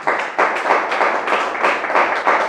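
A church congregation claps in applause during a worship service, a dense steady wash of many hands with rhythmic surges, loud and close, with no talking over it.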